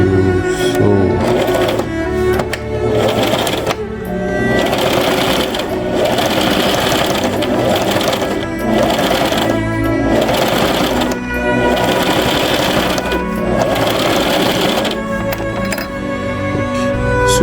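A sewing machine stitches the side seams of a sewing machine cover, running steadily and loudly with a fast mechanical rhythm and only brief pauses, close to the microphone and with no talking.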